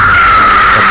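A woman screams in a horror story sound effect, a single loud, sustained high-pitched shriek that fills the whole moment.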